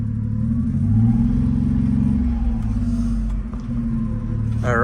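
Low rumbling idle of a Honda mini truck engine as it is driven in reverse, steady and close, with a brief spoken word over it.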